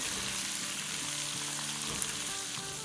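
Onions frying in a pan for a Bihari masala mutton curry, a steady close sizzle with a dense hiss that holds throughout, plus a faint clink near the end.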